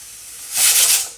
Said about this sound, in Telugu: వచ్చేసిందండి విజిల్.